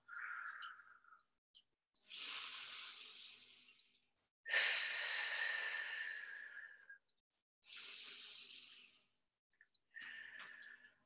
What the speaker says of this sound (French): J'inspire, j'expire 3 fois.